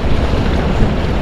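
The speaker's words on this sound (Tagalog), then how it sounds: "Salubong tayo sa hangin." Steady wind gusts buffet the microphone at the seashore, a dense, rushing roar with no pauses, loud and close, likely mixed with the wash of waves.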